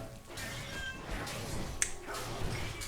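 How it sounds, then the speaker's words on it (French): A pet cat meows nearby, a few short plaintive cries over a quiet room tone with faint background game sounds. "Ouais, oui, c'est mon chat qui miaule."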